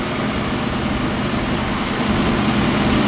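An engine-driven welder generator runs at a slightly high idle, a steady close hum with a low, even drone that holds for the full length without change.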